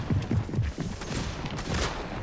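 Rapid gunfire in a video game crackles in close, punchy bursts at the start and then settles into a dense, continuous noisy wash.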